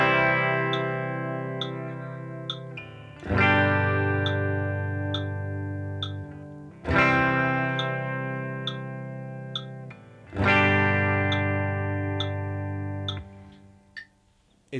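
Distorted electric guitar chords ring out one after another, each change falling on a steady metronome click, four strums in all, loud and sustained with no talking.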